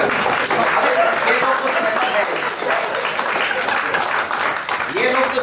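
Sustained audience applause at a Hindi kavi sammelan poetry gathering in Vapi, a dense steady wash of clapping filling the hall, with a voice speaking over it.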